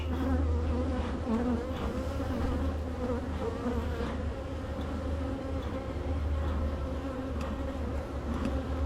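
A dense, steady hum of many honeybees buzzing close by around an open hive during an inspection, droning continuously with slight swells and no voices.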